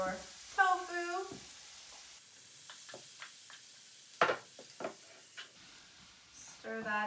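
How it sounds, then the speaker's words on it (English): Tofu and peppers frying in a pan, a quiet sizzle broken by a few clicks and scrapes of stirring, with someone speaking briefly at the start and end. "Once the peppers have softened a bit, you can add your tofu."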